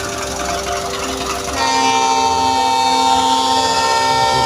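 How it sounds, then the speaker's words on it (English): A Belgavi to Bangalore train rolls past the Londa railway gate, a loud sustained rumble with tonal horn-like hum that swells and holds close by, no talk. "Belgavi to Bangalore train from this side."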